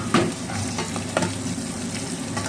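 Pork cracklings fry in rendered fat in a pan, with a steady close sizzle and a few brief louder crackles and stirring scrapes.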